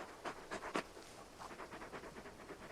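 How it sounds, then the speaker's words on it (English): Torgal, the big dog companion in the video game Final Fantasy XVI, pants in quick rhythmic breaths up close, a few louder huffs first, then a steady faint run of panting. "You're just a big puppy, aren't you? A very big puppy."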